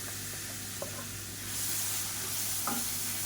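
Finely chopped onions fry in a pan for a tomato and green chilli thokku, giving a close, steady hiss of sizzling oil that grows slightly louder partway through.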